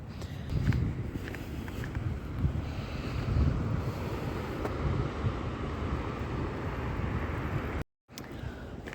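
Steady wind roars and buffets the microphone at the seaside in Tynemouth, northeast England, with a low rumble of surf beneath; the blustery noise continues throughout, briefly cutting out near the end.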